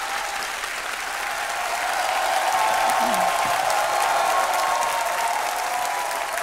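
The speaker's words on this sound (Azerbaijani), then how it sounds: "O, onda alqışlar biraz da gürültülü gəlsin." An audience breaks into loud, sustained applause on a televised singing competition stage, dense steady clapping that swells and holds, with cheering voices mixed in.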